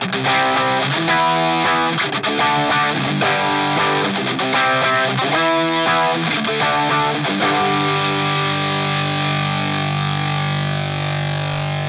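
An electric guitar runs through a JHS Bonsai overdrive pedal on its Keeley TS-808 mod setting, playing crunchy distorted riffs and strummed chords that end in a sustained ringing chord, loud and up close with no talking.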